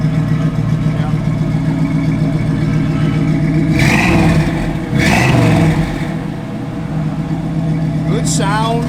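Engine of a 1969 Chevrolet Camaro running loud and close, holding a steady idle with two short revs swelling up and falling back midway, then settling to idle again.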